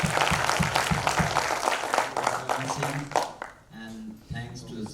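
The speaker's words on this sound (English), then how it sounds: "Can we have a big round of applause to start with?" A conference audience gives a burst of applause, dense clapping for the first few seconds that gives way to a speaker talking over the hall.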